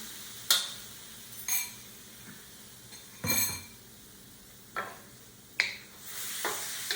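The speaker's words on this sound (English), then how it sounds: "We're going to brown the meat. We're going to cook it. Move it around." Steak browning in a hot pan, with a steady sizzle under intermittent scrapes and light clinks as a utensil stirs and moves the meat around, close by and without talk.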